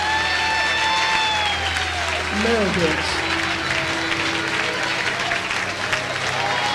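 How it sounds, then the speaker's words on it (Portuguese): A church congregation applauds loudly and steadily, a dense wash of clapping with shouts and voices mixed in, sustained throughout. "aplauda Jesus bem forte"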